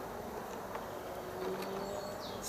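Honeybees buzzing close by at a hive, a steady droning hum with brief louder passes, no talking.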